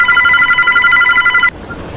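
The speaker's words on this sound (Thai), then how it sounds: "โทรศัพท์เสียงดังมาก" A telephone rings inside a Roblox horror game set in an old orphanage, a loud steady electronic bell trill that keeps sounding continuously and then cuts off abruptly, leaving quiet room tone behind.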